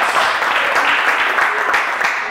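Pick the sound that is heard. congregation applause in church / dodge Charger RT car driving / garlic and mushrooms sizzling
congregation applause in church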